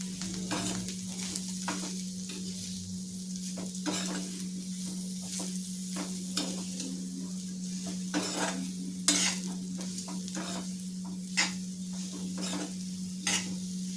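Bitter gourd fry (kakarakaya fry) stirred in a hot pan with chili powder just added: a steady sizzle runs throughout, broken by frequent scraping and clattering strokes of a spoon against the pan, close and fairly loud, with no voices.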